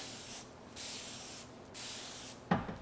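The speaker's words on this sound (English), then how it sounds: "I love this spray bottle." Three quick bursts of fine water mist hiss out close by from a spray bottle wetting hair, evenly spaced about a second apart, followed by a soft rustle.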